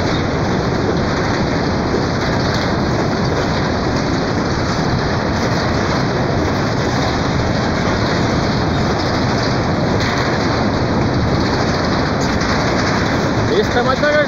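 A train rolls past on tracks right beside a street in a city neighbourhood, giving a loud, continuous rumble and rattle close by. People are talking over it.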